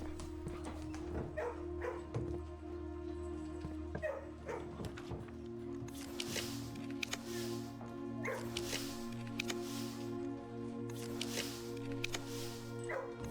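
A dog in a kennel in the puzzle game Blue Prince yips, whimpers and gives short barks against a steady musical background, with a few sharper bursts spaced through the latter half.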